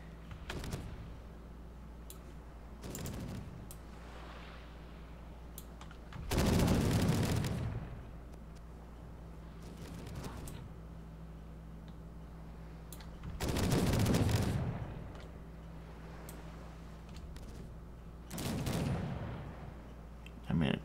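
Gunfire bursts in the pirate video game Caribbean!, with three or four loud volleys spaced several seconds apart over a steady low background hum, no talk.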